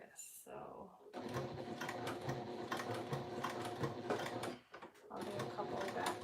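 A home sewing machine stitching a fabric pouch, running in steady whirring bursts with short pauses between stitching runs, close and clear, while someone talks over it.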